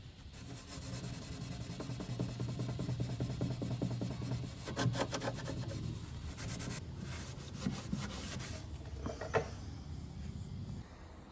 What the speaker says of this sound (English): pure isopropyl alcohol, and just a lint-free cloth. And I'll give it a bit of a wipe over